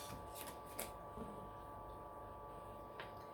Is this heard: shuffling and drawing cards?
yes